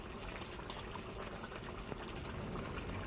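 Fried fish curry simmers in a pan, giving a faint, steady bubbling and gurgling with soft splashy texture, close by and without talk.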